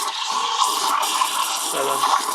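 A BRIEL EG181A coffee machine runs after a button press, a close, steady mechanical whirr with a watery, gurgling hiss and faint rattles throughout.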